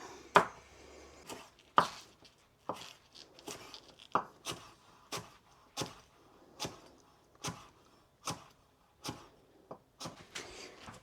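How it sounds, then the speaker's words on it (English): Garlic being chopped with a knife on a cutting board, a steady series of close, crisp chops about once a second. A few faint clicks fall between the strikes. "I'll cut up this garlic here."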